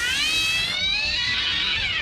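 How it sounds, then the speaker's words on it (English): A long, high, wavering cat meow sounds alone, drawn out and fairly loud, sliding in pitch. "that's a cat meowing in the background."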